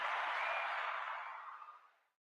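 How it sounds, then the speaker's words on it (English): A studio audience's applause welcomes a talk show guest, a dense, steady clatter of clapping that holds for about a second and then thins and fades away. "let's get a warm round of applause going for my"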